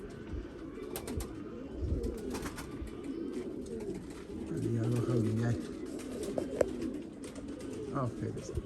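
Pigeons coo repeatedly at a loft during a flight session with one white pigeon, their soft throaty calls rising above steady outdoor ambience, with faint voices in the background.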